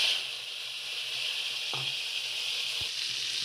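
Chopped tomatoes hitting hot oil already seasoned with dried chilli and nigella seeds give a steady, fairly loud sizzle throughout, with a couple of brief clacks partway through.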